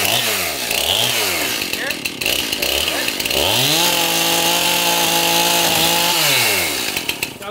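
A power saw cuts through the wooden floor of a ranch cabin under renovation, loud and close, its whining motor rising and falling in pitch as it bogs into the wood and revs free again, with some talking underneath.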